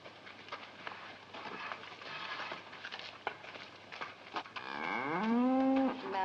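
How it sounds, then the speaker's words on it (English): A large cow lets out a long, loud moo near the end, preceded by a stretch of muffled rustling and patter; no one speaks over it. "we look at this big cow"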